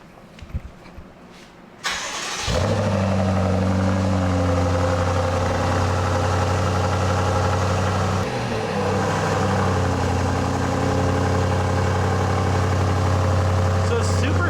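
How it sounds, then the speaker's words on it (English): After a few quiet noises, a 2023 Alpina XB7 with an aftermarket Meisterschaft exhaust cranks and fires up on first startup, then settles into a loud, deep, steady rumbling idle. "let's give her a fire up and hear what she sounds like. First startup."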